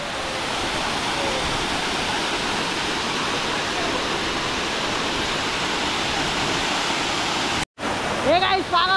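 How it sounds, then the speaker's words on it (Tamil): Doodhani waterfall roars as a steady, loud, broadband rush of falling water, unbroken for several seconds before a brief cut, after which the roar returns with a short voice over it. "வாட்டர் ஃபால் பாருங்கள்"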